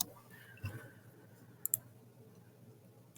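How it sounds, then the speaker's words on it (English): A computer mouse clicks twice in quick succession, two sharp, faint ticks close together over quiet room hiss. "Let's double click"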